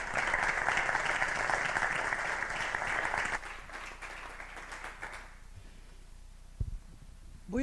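Applause from an audience at an award ceremony for an international Navarra Europe prize, a dense, steady wash of clapping that thins and fades away over several seconds into near quiet, ending with a voice.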